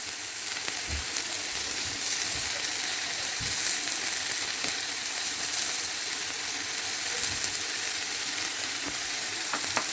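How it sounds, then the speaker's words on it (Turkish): A beef ribeye steak fries in a pan with butter, giving a steady soft sizzle with occasional faint clicks and taps of utensils, fairly quiet and continuous, with no voices. "Evet etimiz bu şekilde pişmeye devam edecek arkadaşlar."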